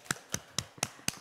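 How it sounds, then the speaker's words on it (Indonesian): Five sharp, evenly spaced hand claps at a steady beat, fairly close and crisp, from a children's Sunday school worship service with no talking over them. "Tepuk tangan untuk Tuhan Yesus"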